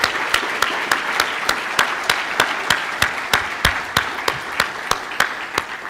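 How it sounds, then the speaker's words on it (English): At a Hall of Fame and Top Ten awards ceremony, the audience claps together in a steady, evenly spaced rhythm, each sharp unified clap ringing out over a soft background of scattered clapping. "Join me in another round of applause for our Hall of Fame and our top 10 individuals."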